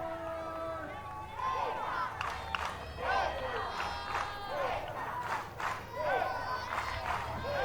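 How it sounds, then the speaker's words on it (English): Crowd at a college softball game between Florida State and NC State cheers and shouts as a play unfolds, a steady roar with rising bursts of excitement, overlaid by nearby voices. "Crowd starting to fire more into it."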